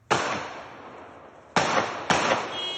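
Gunfire erupts at night in a residential neighbourhood of Villeurbanne: three sharp, loud cracks with ringing tails, the first alone, then two more close together about half a second apart.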